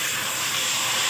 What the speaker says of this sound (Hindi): अदरक और लहसुन का पेस्ट इसमें ऐड करके मैंने भूना है। ये देखिए मैं भून रही हूँ।